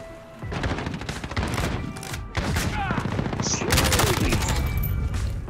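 Rapid automatic gunfire in the shooter game Call of Duty: Modern Warfare multiplayer, with dense bursts, sharp cracks and booming impacts stacked close together, and a player's voice breaking in briefly between the shots.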